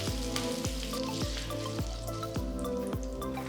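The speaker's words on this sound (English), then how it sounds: "Once the mustard seed starts splattering, add 1/4 teaspoon of hing, that is Asafoetida powder, and a few curry leaves." Mustard seeds, asafoetida and curry leaves tempering in hot oil for kara chutney, a dense steady sizzle with faint popping and a regular low thumping rhythm underneath, close and without talk.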